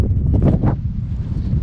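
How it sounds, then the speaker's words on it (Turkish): Low, steady wind rumble buffeting the microphone, with a few brief faint gusts early on and no voices. "Şu rüzgar biraz inince"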